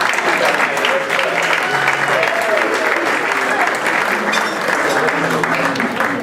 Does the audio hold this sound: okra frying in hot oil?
no